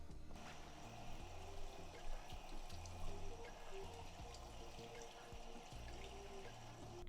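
Water from a tap runs and splashes steadily while plant roots are rinsed, a faint continuous trickle with some low bumping underneath.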